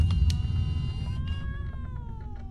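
A small cat meows in the video game Pieces of Me, its drawn-out gliding cry rising and falling over a low rumbling game ambience, with no talk.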